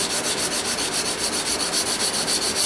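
Knife blade flats being hand sanded with sandpaper, a close, loud, rhythmic rasping with regular back-and-forth strokes about five per second, steady throughout.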